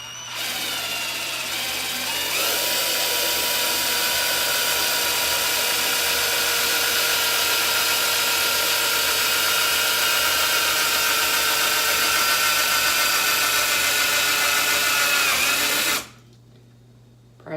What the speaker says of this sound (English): You just start drilling in.